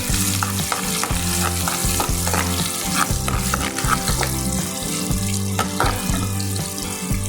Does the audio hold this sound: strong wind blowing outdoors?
no